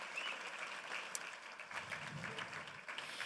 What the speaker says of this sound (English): Can we give Miramonte High School chamber singers another round of applause?